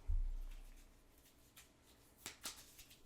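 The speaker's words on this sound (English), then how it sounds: "Sorry for those of you who hate shuffling cards without sleeves." Bare, unsleeved playing cards are shuffled during a solo board game: a soft low thump, then a few quick, quiet riffling bursts close by, with no talk.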